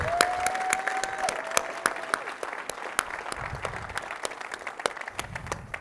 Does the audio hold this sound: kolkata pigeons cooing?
no